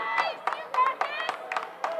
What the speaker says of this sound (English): The crowd is starting to get into this game